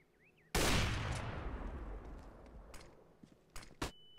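Gunfire in a competitive shooter video game, a loud burst of rapid shots followed by a long ringing decay, then a few sharper single reports near the end, with no talking over it.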